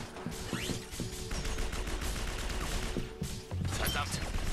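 Dense bursts of gunfire from the video game Binary Domain, rapid shots and automatic fire crackling continuously with mechanical clatter, loud and close throughout.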